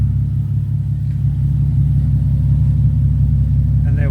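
A custom twin-turbo Nissan 370Z idles cold inside a workshop, its engine producing a loud, steady low rumble and drone that holds constant throughout.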